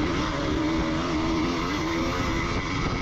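A 500cc motocross bike revs hard during a race, its loud, continuous engine drone close by and wound up at high rpm throughout, with no talking.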